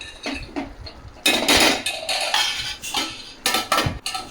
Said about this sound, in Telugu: యాడ్ చేసినాక మళ్ళీ ఒకసారి మిక్స్ చేసుకోవాలి.